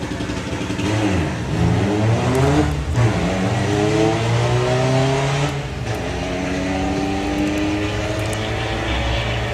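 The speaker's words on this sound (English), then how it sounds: "Beetle against the Audi TT" A VW Beetle and an Audi TT launch side by side at a Bug Jam drag race, with loud engines revving and rising through the gears in overlapping sweeps, roaring continuously up close.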